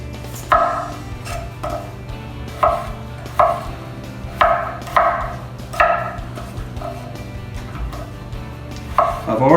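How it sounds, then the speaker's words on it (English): A knife chops potatoes into large chunks on a board, with about a dozen crisp, separate cuts in an uneven rhythm, close and fairly loud over a steady low hum. "We're going to cut the potatoes in fairly large chunks"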